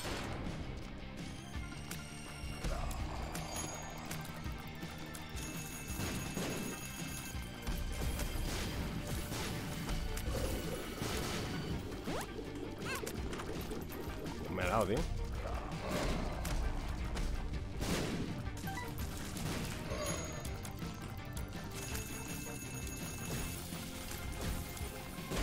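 Explosions and crashing blasts in The Binding of Isaac video game, dense and continuous over game music, with several sharper bursts standing out amid the busy, loud mix.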